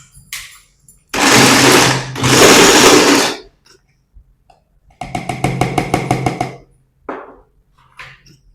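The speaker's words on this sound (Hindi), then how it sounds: "तो हमने इसमें डाल दिया है जिंजर एंड गार्लिक, अब हम इसे चॉप कर लेंगे।" An electric chopper whirs at high speed while chopping ginger and garlic, running in two loud sustained pulses followed by a rapid stuttering burst and a brief final spin, close and clear with no talk.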